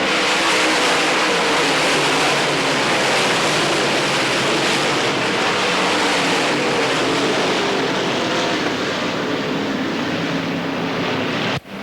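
Dirt track race cars at Pennsboro Speedway's 1990 Hillbilly 100 roaring past under the green flag, a loud, dense, sustained engine roar from the pack of cars that cuts off abruptly at the end.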